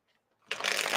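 Tarot cards being shuffled by hand, a sudden dense riffling rush that begins after near silence and stays close and loud.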